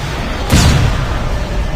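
A flashbang grenade goes off in the mobile shooter Call of Duty Mobile, one sudden broadband burst with a low thump that lingers briefly amid steady game noise.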